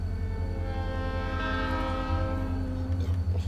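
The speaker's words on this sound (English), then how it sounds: "the horn's a little muted in the cab" A diesel locomotive horn sounds continuously from inside the cab, slightly muffled, with a wind-up, over a steady low engine rumble.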